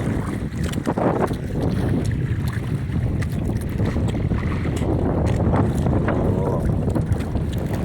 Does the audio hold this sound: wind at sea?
yes